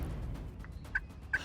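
An eastern wild turkey gobbler gives two short, faint gobbles at a distance during a spring hunt, spaced less than half a second apart over a soft outdoor hush.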